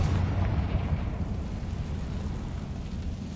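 A Confringo spell explosion in Hogwarts Legacy, a dense, rumbling blast roaring steadily and loudly throughout with no gaps.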